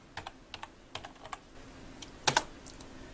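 A computer keyboard is typed on while entering text into an Excel spreadsheet, with sparse, irregular key clicks in small clusters and one louder double strike near the end. No voices are heard.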